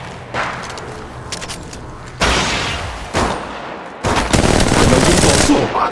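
Loud, close gunfire in Apex Legends Mobile: bursts of rapid automatic fire broken by brief pauses, building to a sustained barrage near the end, with some heavier thumping impacts mixed in.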